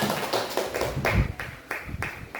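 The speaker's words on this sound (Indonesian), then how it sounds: "Tepuk tangan dulu dong." A small group of people claps in a classroom or training session, a handful of distinct claps with uneven spacing, fairly close and without talk.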